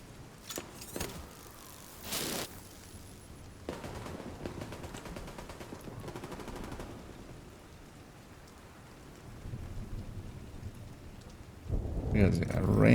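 Rain and thunder in a video game, a steady hiss of rainfall with several sharp cracks and rumbling bursts spread through it, including a heavier rumble near the end, and no talking.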